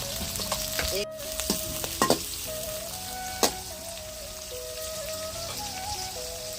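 Onions and curry leaves frying in a pan, a soft steady sizzle with occasional sharp scrapes and clicks of stirring, a few sustained tonal hums running underneath, nearby and fairly quiet.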